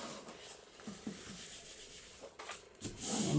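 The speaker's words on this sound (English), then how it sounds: "burnish that down with my bone folder" A bone folder burnishes paper down in a junk journal craft project, giving soft, quiet rubbing strokes in an irregular rhythm, close to the microphone.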